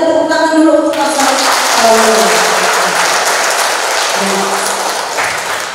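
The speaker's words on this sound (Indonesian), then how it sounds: "Boleh kita tepuk tangan dulu untuk Pastor." Audience applause for a pastor at the close of a church question session, dense steady clapping from a crowd that carries on under a sustained tone and continues for several seconds.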